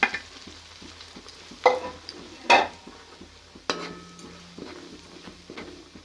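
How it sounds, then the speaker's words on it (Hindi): Semolina and gram flour roasting in melted ghee for besan laddu are stirred in a pan, a quiet low sizzle under a few distinct scraping strokes of a spoon against the metal. "अब इसे हिलाते हुए पकाएंगे अच्छे से।"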